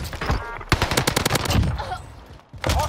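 Gunfire from an MW Bizon submachine gun in Call of Duty Warzone on Rebirth Island: loud, rapid bursts of shots, one long burst of about a second, then scattered shots amid game noise.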